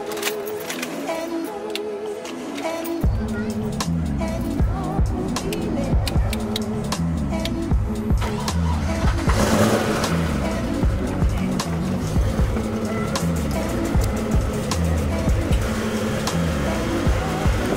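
A car idles loudly at a car meet after its engine catches, then blips and revs in repeated surges over a dense mechanical rumble, close and continuous, with faint voices nearby.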